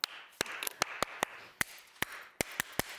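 Sharp hand claps in a rhythmic teacher's clapping pattern, about a dozen crisp, close strikes in uneven groups with short gaps between them.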